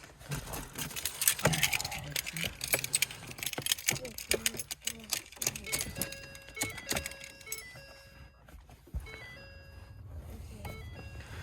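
Car keys jangling inside a 2010-12 Ford Fusion, light metallic clinks and rattles scattered through the cabin while people talk and a chime sequence plays.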